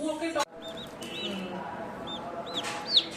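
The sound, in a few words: chicken chick clucking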